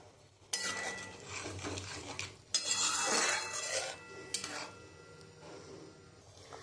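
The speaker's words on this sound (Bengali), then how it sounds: "ঝোল তো ফুটে গেছে। এবার আমি মাছগুলো দিয়ে দেবো।" Fish slides into boiling gravy in a pan, a few soft splashes and bursts of bubbling and clatter at close range, fairly faint overall.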